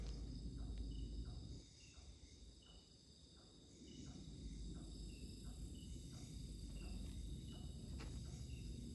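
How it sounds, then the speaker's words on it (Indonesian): Crickets chirp in a steady, rapid pulsing rhythm against a quiet nighttime background, fairly faint and continuous with no voices. "Jangkrik tenan."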